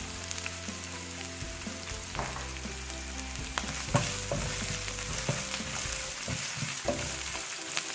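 Vegetables with fennel seeds sautéing in a pan, a steady close sizzle and crackle running throughout, with scattered scrapes and clicks of a spoon stirring.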